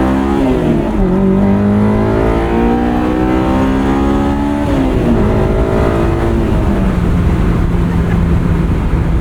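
A Honda S2000 sports car engine revs hard to around 7,000 RPM, pitch climbing steeply through the VTEC range, dropping briefly on a shift and then rising again, loud and continuous from inside the car with no talking.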